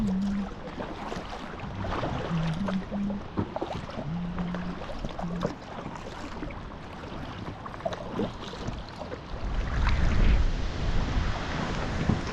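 Steady wind gusting over a lake while packrafting on Lac de Gruyère, broadband rushing and buffeting against the microphone with lapping water, swelling louder toward the end, no voices.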